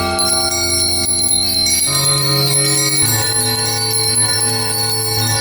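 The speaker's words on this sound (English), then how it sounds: "it rang out loudly, and so did every bell in the house" Loud, continuous ringing of several bells at once, their tones overlapping and shifting in pitch, bright and sustained throughout.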